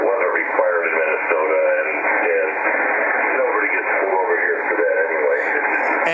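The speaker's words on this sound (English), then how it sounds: "Hear that whining sound?" A FlexRadio 6600M radio receiver puts out a steady band-limited whining noise mixed with hiss and garbled, distorted voice-like warbling, continuous and loud for the whole stretch.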